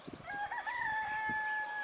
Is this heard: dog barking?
no